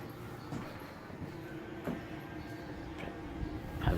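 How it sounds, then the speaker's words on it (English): A furnace running indoors gives a quiet, steady broadband rumble and hum with a few faint knocks and clicks along the way. "Alright, so furnace is on."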